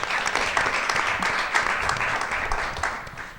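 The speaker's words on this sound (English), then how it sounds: "So can we get a round of applause for all of our panelists?" An audience at a women's innovation event applauds the panelists, a close, fairly loud and steady burst of many hands clapping that continues for several seconds before easing slightly.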